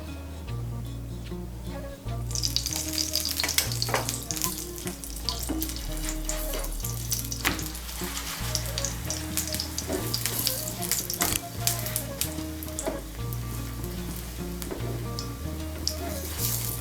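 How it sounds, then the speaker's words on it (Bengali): A semolina and flour paratha fries in oil in a pan, a close crackling sizzle that rises after a quieter start and carries on steadily with scattered pops and a low hum beneath. "আমি তেল দিয়ে ভাজছি"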